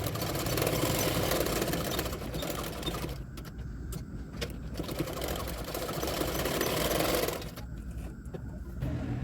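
A sewing machine runs in steady bursts while stitching the neckline of a lined double katori blouse, a continuous near whirring that pauses briefly around the middle and again near the end.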